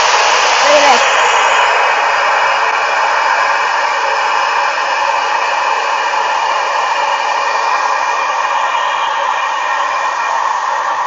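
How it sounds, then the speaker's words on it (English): A hair dryer blows steadily at full power on high heat, a loud continuous whoosh with no pauses. "So, now we're going to take a hairdryer."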